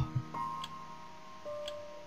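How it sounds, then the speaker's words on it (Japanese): A clock ticks in the video game To the Moon, sounding two crisp ticks about a second apart over a quiet background of soft sustained tones, with no one talking. "秒針の音が彼女に良くない。"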